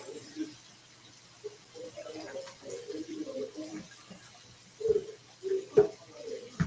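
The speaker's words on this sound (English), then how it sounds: "so I'm washing the rice" Rice washed by hand in a bowl of water, with soft sloshing and swishing and a few louder splashy stirs near the end, close and fairly quiet, while a voice talks at times.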